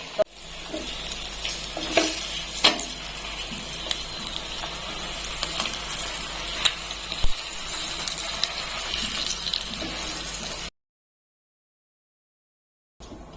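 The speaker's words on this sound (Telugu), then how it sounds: "ఇప్పుడు వీటిని రోస్ట్ చేసుకోవాలి" Steady sizzling of eggs roasting with salt, chili powder and turmeric in a pan, with occasional scraping stirs, frying continuously for about ten seconds before cutting to silence.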